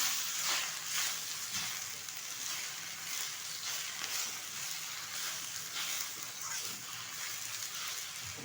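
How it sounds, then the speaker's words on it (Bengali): Chopped jute leaves frying with turmeric powder in a pan for a jute-leaf dal, a constant soft sizzle with faint stirring scrapes, no voices. "দিয়ে দিচ্ছি টুকরো করে রাখা পাট শাক। এটা কিন্তু ভালোভাবে ভেজে নিতে হবে।"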